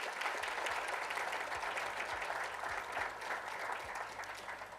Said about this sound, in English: Let's give a round of applause to our candidates for their hard work in the past month.